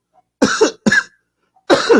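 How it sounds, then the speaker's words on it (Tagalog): Three harsh, close coughs from a smoker in quick bursts separated by silence, the first two close together and the third after a short pause. "ubo ka na ng ubo. Kakasigarilyo."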